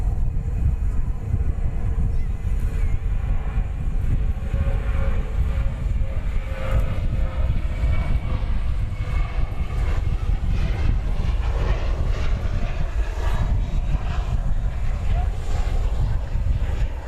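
An airliner bound for Spokane rolls and lifts off at DFW Airport at night, a steady broad engine roar close and loud across the whole stretch.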